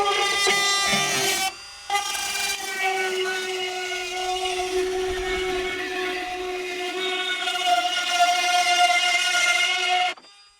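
Small side-cutting drill bit boring through a carbon fiber door on a 350z, a loud steady high-pitched tonal whine with a brief break near the start, running about ten seconds before stopping.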